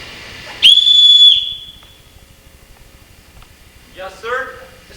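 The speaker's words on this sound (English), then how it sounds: "Everyone in this house answers to a whistle." A single loud, sustained, shrill whistle is blown as a signal to call the household, lasting under a second and trailing off, followed by silence and then brief speech.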